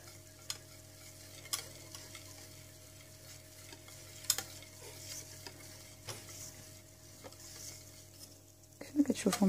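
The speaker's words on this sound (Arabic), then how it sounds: "المهم هاكا نبقاو نخلطو" A spoon stirs an Oreo and chocolate dessert mixture in a bowl, making quiet repeated scraping and soft clinks at an uneven rhythm, close by and faint, with a busier flurry of scraping at the end.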